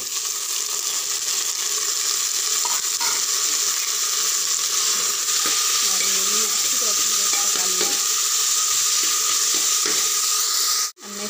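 Tomatoes frying and being stirred in a pan for a potato and pea sabzi, with a continuous loud sizzle and scraping stirs and clinks through the middle, alone without talk.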